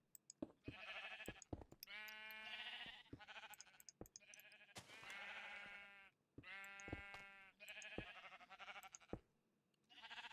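Sheep in the Minecraft video game bleat repeatedly in short wavering calls, several overlapping and fairly clear, with brief clicks between them and no talk.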